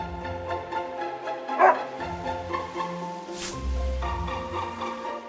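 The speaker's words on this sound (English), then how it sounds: "But this dog's name definitely isn't Pochi. It's Princess." A small dog named Princess barks in the Another Code R video game, a short bark rising over soft game music, followed by background tones without talk.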